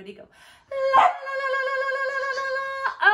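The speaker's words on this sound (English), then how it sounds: "That's our dog." A pet dog gives a sustained, high, wavering howl-like bark during a children's music class. It is close and loud and fades only briefly, with people talking just before and at the end.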